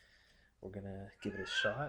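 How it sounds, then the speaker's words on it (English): A pet cat gives a short meow toward the end, heard beneath someone speaking close to the microphone. "I think my cat's done with her meowing"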